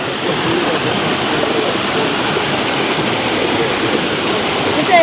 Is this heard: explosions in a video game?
no